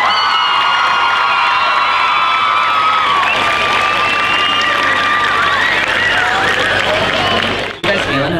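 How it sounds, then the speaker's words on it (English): An audience cheers, whoops and applauds for a school homecoming court, with excited shouting and high-pitched yells over steady loud clapping throughout. The noise drops off abruptly near the end. "One more round of applause for the entire homecoming court."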